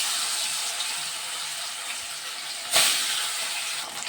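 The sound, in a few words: katla fish pieces frying in ghee and oil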